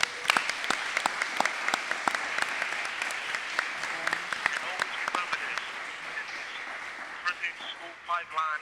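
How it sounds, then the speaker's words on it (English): An audience applauds at an event on the school-to-prison pipeline, with steady, fairly quiet clapping throughout and a few voices emerging as it fades near the end. "A round of applause for Suave,"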